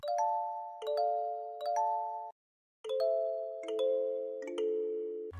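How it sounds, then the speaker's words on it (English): Bright, bell-like plucked notes play a gentle repeating melody in short phrases, with a brief pause midway and a low thump at the end. "I added a kalimba. It kinda sounds like a lo-fi kalimba thingy"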